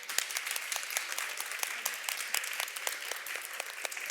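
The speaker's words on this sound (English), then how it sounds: "I'd love you to round of applause for yourself for everything you do" Conference audience at CHS Leeds 2025 applauding, a dense steady patter of many hands clapping throughout, moderately distant and even, with no talk over it.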